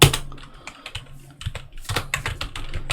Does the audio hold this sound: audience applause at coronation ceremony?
no